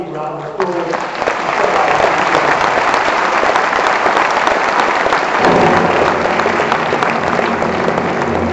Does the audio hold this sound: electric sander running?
no